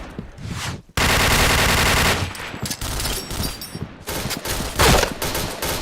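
Heavy automatic gunfire from the video game Point Blank, loud close bursts that start abruptly after a short quiet moment, then break into choppy volleys and resume near the end.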